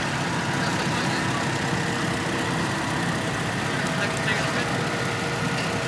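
A 1969 International 444 tractor engine runs steadily at a parade, a low continuous idling chug at moderate distance, with a crowd murmuring and a voice speaking over it.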